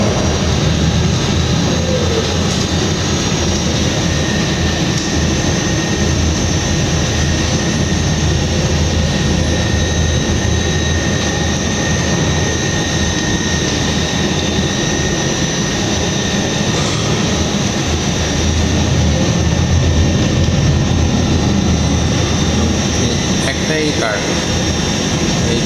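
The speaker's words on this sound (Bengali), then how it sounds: "এখান থেকে বাসে উঠলাম, দেখাচ্ছে 20 মিনিট লাগবে।" Riding a city bus in Subang Jaya, a steady, loud interior drone of engine and air conditioning rumbles continuously with little change throughout.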